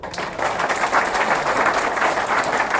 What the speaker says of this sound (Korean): 우리 미친 척가 박수 한번 칠까요?